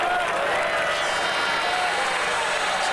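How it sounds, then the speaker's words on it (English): Crowd applause fills a football stadium at Brunswick Juventus's home ground as a substitute comes on, a dense, continuous wash of clapping with some cheering, loud and sustained for several seconds. "So a good round of applause for Chris Calensis"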